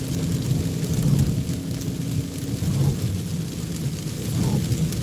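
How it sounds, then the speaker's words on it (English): Steady rain drums on a car windshield during a night drive, a continuous low patter with soft rumbling beneath it, close and even throughout. "rain on the windshield making some ASMR noise"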